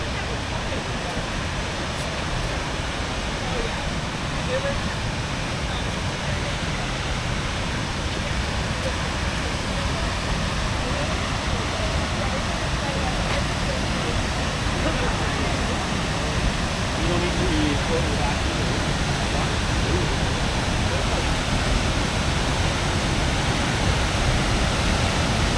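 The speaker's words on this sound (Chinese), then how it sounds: "就有一个还是蛮好看的一个瀑布" A fairly large waterfall beside a glacier park in Juneau, Alaska, roars in a loud, steady, broadband rush that holds unbroken for the whole stretch.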